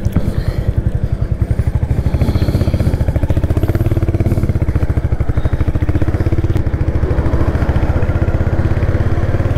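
A 2022 Royal Enfield Hunter 350 single-cylinder motorcycle thumps at a steady, loud, close idle with a regular pulsing beat and some mechanical clatter, revving lightly as the ride begins.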